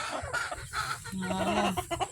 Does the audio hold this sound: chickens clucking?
yes